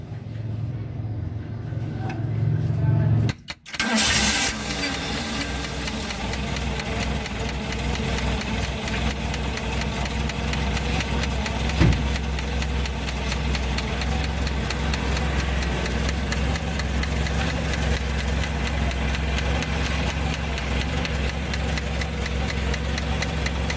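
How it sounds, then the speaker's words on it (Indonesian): A Suzuki Futura car engine, just fitted with a new fuel pump, cranks briefly and then catches, settling into a steady, close, fairly loud idle that runs on evenly for about twenty seconds with no talk. "alhamdulillah mobil sudah hidup"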